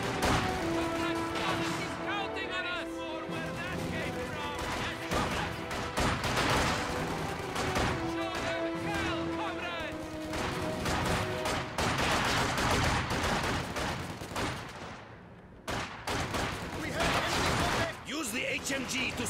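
Heavy machine gun fire and scattered battle shots in Company of Heroes 2, a dense continuous crackle of gunfire with bursts and impacts, mixed under voices talking throughout.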